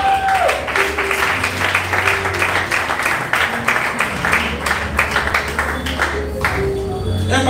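A church congregation applauds after a scripture reading, with sustained, dense clapping filling the whole space evenly and steadily from start to finish.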